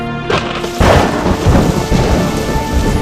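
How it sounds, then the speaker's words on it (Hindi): Heavy rain pours steadily while loud thunder rumbles and a deep boom breaks in, evoking acid rain falling on the early Earth. "एक बार फिर से पृथ्वी पर एसिड की वर्षा शुरू हो गई"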